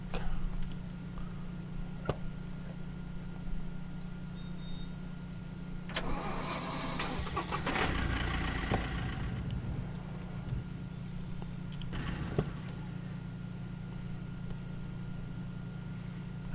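A truck engine in the video game SCUM cranks and turns over in a rough burst, then settles into a steady low idle hum, heard up close with no talking.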